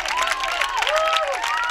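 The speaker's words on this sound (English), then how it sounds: "the home crowd on their feet and excited" A home crowd at a men's college soccer match against Calvin College, late in the second half, cheers and shouts in a steady, dense roar with whistle-like calls rising above it.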